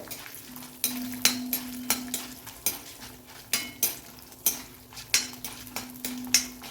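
Green chillies sautéing in oil in a pan for coriander chutney: a soft continuous sizzle punctuated by regular sharp clinks and scrapes of a spoon stirring against the pan, with no talking.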